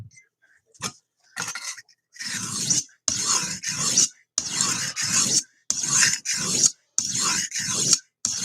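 Knives being sharpened produce rhythmic, close rasping strokes, a few quick ones at first and then steady repeated passes with short pauses between them.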